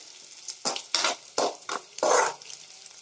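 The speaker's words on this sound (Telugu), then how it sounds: "ఎర్రగడ్డ బాగా వేగాలండి" Onions with curry leaves frying in a pan for poha upma, with a soft background sizzle broken by about five distinct stirring scrapes at uneven intervals, heard close.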